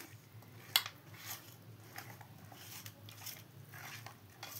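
Fish pieces are stirred with masala in a pot, producing soft, quiet scraping and clinking of a spoon against metal in irregular strokes, with one sharper clink early on.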